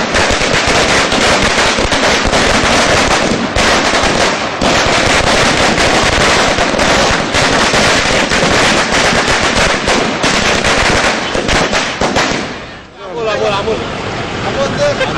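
Firecrackers bursting in a rapid, crackling barrage outside the Shivajinagar court in Pune as lawyers celebrate, loud and continuous over crowd babble, easing briefly near the end.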